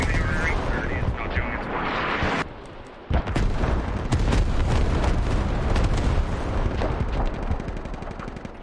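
Artillery shells land in the tactical shooter Squad, a heavy, continuous run of booming blasts and rumbling impacts, loud and close, with a brief dip in the middle before the barrage resumes under some voice chatter.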